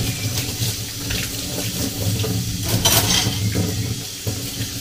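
Steady running tap water splashing into a sink, with faint clinks of dishes and cutlery mixed in, continuous and fairly close.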